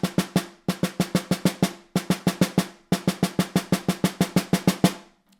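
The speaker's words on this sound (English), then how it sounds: "So if I played that first line without the buzzes, a 30-second note subdivision would sound like this." A snare drum plays an even 32nd-note subdivision without buzz rolls, in four crisp, close bursts of rapid single strokes separated by short gaps, heard alone.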